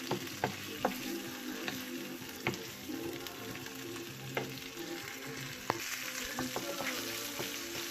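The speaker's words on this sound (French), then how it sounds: "il faut laisser griller jusqu'à ce que tout l'eau soit absorbée" Dough frying in oil in a pan for a pastel cake, a continuous close sizzle and crackle with occasional sharp pops and stirring scrapes, no voices.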